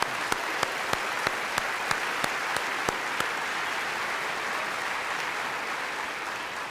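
An audience at a NASCAR awards ceremony applauds in a dense, steady roar of many hands. Sharp, evenly spaced claps stand out over it through the first half.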